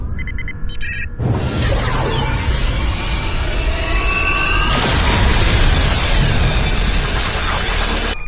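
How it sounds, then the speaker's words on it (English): Starship weapon in Star Trek Online fired on a city, a sudden loud blast with a long rumbling roar and whooshing tail, then a second heavy impact swelling up midway, sustained dense noise throughout. "Gunner, target the shipyard and fire the weapon!"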